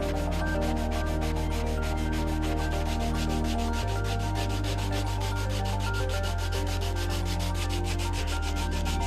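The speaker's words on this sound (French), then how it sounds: "Poncez avec une éponge abrasive." Steady, rhythmic rubbing of an abrasive sponge on wood to remove paint stains, close up, with quick repeated scrubbing strokes over a low constant hum.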